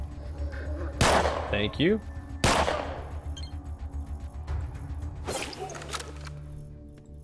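Gunfire in the video game ATOM RPG: loud, sharp shots crack around the one- and two-and-a-half-second marks, then a softer volley comes later, with someone speaking briefly in between.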